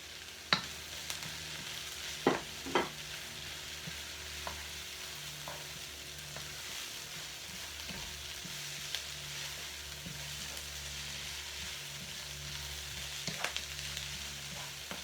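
Spring greens frying for vegetable fried rice, a steady quiet sizzle in the pan broken by occasional sharp clinks and scrapes from stirring.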